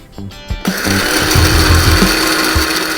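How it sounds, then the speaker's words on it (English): An electric spice blender grinds dry red chilies and spices with a loud rattling whir that kicks in after a short clatter and continues steadily and close. "We will blend this now."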